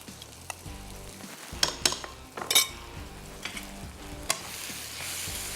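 Kidneys and liver sizzle in a karahi with kadai masala as a spoon stirs them, close frying hiss punctuated by several sharp scraping clinks of metal against the pan.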